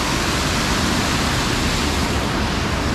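River water pours over a dam in Yalta, a steady loud roar of rushing, splashing water filling the whole clip with no pauses.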